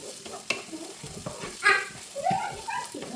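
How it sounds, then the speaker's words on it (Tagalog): Onion and garlic sizzle in a hot pan during stir-frying, crackling frying noise with scraping stirs and clatter, a dog barking faintly and some soft background voices. "Ayan, nalagyan na natin yung onion at saka garlic."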